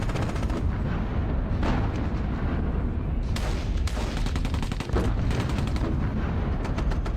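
Booming 3-inch gun fire in the wargame Squad Battles Eagles Strike, a dense run of loud artillery-like blasts and rumbling reports, several sharp shots rising out of a continuous heavy din.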